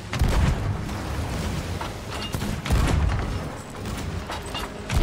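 Ship cannon fire in the Sea of Thieves game aboard a sloop, several heavy booming blasts in succession with rumbling tails, loud and close.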